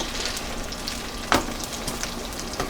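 Meat hits hot grease in a pan and sizzles with a steady, crackly hiss. There is one sharper spatter burst partway through, and no voices.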